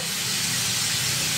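Pork sizzles and spits in hot oil in a frying pan, a steady close hiss with no breaks across the short span.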